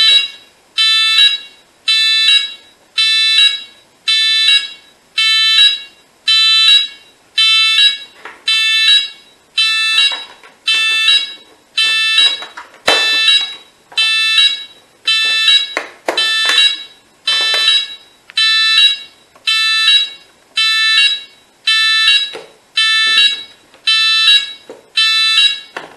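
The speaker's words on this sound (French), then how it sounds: "Donc je pense que c'est une sirène PPMS en fait." A PPMS alert siren on a demonstration model sounds in regular repeating electronic bursts, about one per second, loud and close for the whole stretch with no talking.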